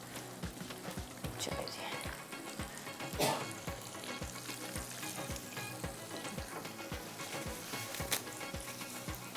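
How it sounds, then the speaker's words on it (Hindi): Ingredients frying in a pan for a Kasoori chicken handi, a steady close sizzle and crackle with occasional stirring scrapes, continuous throughout, with a brief spoken word near the start. "अभी इसको यहाँ पर फ्राई करते हैं, ये फ्राई होते रहेंगे"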